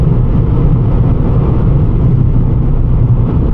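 A car drives in the rain with a loud, steady rumble of engine and road noise inside the cabin, continuous and close.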